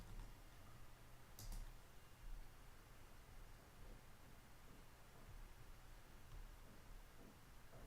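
Faint, quiet typing on a computer keyboard, a soft run of light key clicks at an uneven pace beneath a hiss of background noise.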